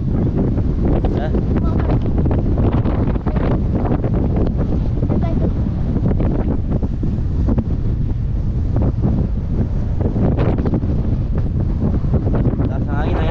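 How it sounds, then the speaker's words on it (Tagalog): Strong typhoon wind near the swollen Pampanga River in the Philippines, a loud, continuous buffeting roar battering the microphone for over thirteen seconds, with rushing water blended into the constant noise. "Lakas ng hangin na yan."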